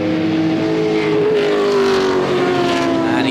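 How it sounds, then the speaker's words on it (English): An International GT race car engine roars on track at Lime Rock, a loud sustained drone with a steady rising-and-falling pitch, heard close as if from inside the car. "Making his way through in the Mountain Dew car."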